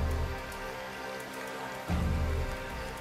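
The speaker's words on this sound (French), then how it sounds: "la pluie s'invite de nouveau dans l'expédition" Steady rain falling on a kayak expedition around the islands of Misool, a dense close patter with a fuller surge of water noise near the end.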